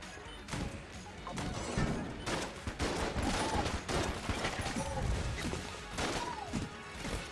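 Rapid video-game gunfire from Enter the Gungeon, dense bursts of shots and impacts crackling nonstop throughout, loud and busy with no one talking.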